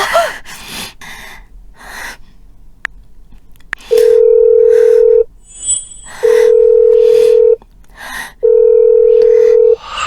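Three long steady telephone ringback tones, each about a second and a half with pauses between, loud and close, after a sharp gasp.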